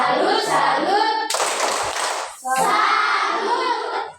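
A classroom of students performs a 'tepuk salut' clapping ice-breaker, a short sharp burst of group hand claps between children's chanting voices, close and fairly loud.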